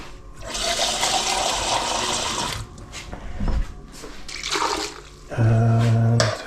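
Cherry tomatoes rinsed under running tap water while cooking a Vietnamese-style beef stew, bursts of splashing and gushing water with pauses between, ending in a louder, steadier stream filling close by.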